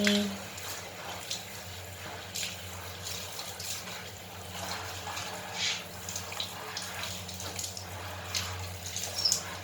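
Water runs from a tap while a baby is bathed, a steady soft splashing stream heard close by, with adults talking gently over it throughout.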